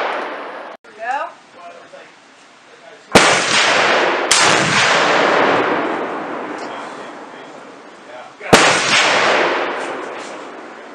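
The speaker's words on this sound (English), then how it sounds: "I really enjoyed shooting the 50 caliber upper." Three loud, close gunshots from a .50 caliber upper ring out, each a sharp crack followed by a long booming decay, with brief talking heard before the first shot.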